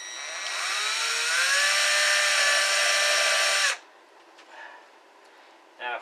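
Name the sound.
electric drill boring a hole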